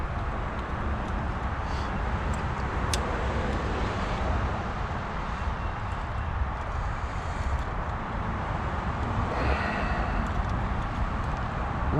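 A Chevrolet C10 pickup engine idles steadily after starting, a continuous low rumble with broadband noise, fairly loud and unbroken throughout.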